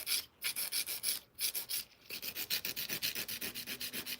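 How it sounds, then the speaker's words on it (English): Acrylic nail extensions being filed into an almond shape: a steady run of quick, rhythmic rasping strokes, close and fairly loud, with a couple of brief pauses between bursts and no talking. "Do you mean the filing?"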